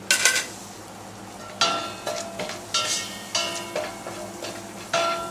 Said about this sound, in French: Faire fondre le beurre.